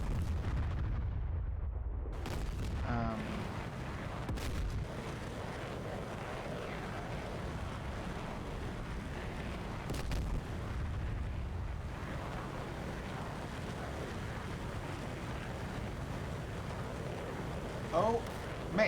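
Patriot PAC-3 missiles launch in DCS World as booming, rumbling blasts that rise out of a continuous roar of jets and wind. Several sharp bursts are spread through the scene.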